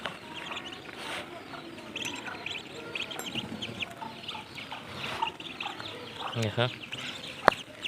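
Two small ducklings calling with soft, scattered quacks and peeps close by, mixed with background noise while a person talks intermittently over them.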